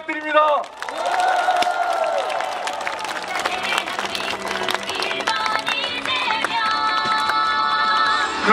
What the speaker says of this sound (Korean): 큰 응원의 박수 부탁드립니다.